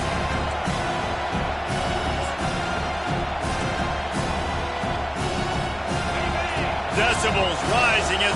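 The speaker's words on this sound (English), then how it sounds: "Decibels rising as the crowd gets behind this defense on third down" A stadium crowd at a Michigan vs Penn State college football game roars on third down, a loud, dense wall of noise that swells higher near the end. Voices can be heard faintly beneath it.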